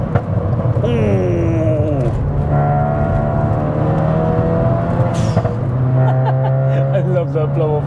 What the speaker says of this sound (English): I love that blow-off noise.